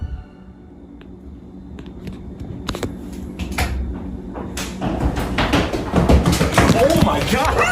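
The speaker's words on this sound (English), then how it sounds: "hear a door in the basement repeatedly opening and slamming shut" A basement door bangs and knocks repeatedly, opening and slamming shut in a series of sharp impacts that grow louder and more frequent toward the end, amid household ambience and faint voices.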